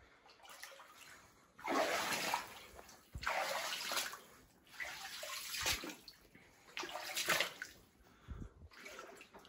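Boots wading through flooded water inside a gold mine in California, with repeated splashing, sloshing surges in a slow rhythm of steps, close and fairly loud.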